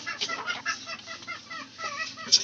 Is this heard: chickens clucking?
yes